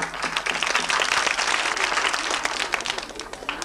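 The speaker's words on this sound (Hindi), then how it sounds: "ताली होनी चाहिए।" Classroom applause from a group of schoolchildren, a steady dense patter of hand claps that runs throughout at moderate loudness without any talk.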